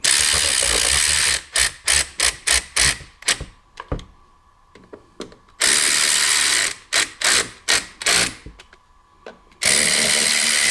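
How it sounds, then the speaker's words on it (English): Rapid bursts of loud, close ratchet clicking as bolts are tightened on the clutch cover of a 2001 Polaris Magnum 500, with long runs of clicks separated by short pauses and a few slower strokes, no one speaking. "I'm just gonna use the ratchet."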